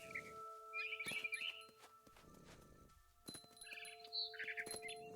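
Frightened bird chirping in the video game What Remains of Edith Finch, bright scattered tweets near and far over a steady game ambience, with soft footstep-like rustles between calls.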